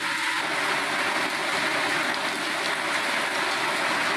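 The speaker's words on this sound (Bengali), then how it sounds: "আমার পিছনে আপনি এই মুহূর্তে বৃষ্টি হইতেছে" Outdoors at a cattle farm, rain falls as a steady, even wash of broadband patter that continues throughout at moderate level, with no voices over it.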